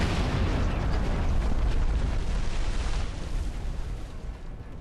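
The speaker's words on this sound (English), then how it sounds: "World's biggest grenade." A huge grenade blast in a modded Halo 3 match, a loud, dense roaring explosion that fills the space and slowly tails off over a few seconds.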